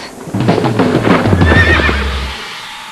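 A horse at a stud farm lets out a loud, close whinny over a couple of seconds, with faint hoof clip-clops mixed in and no voices.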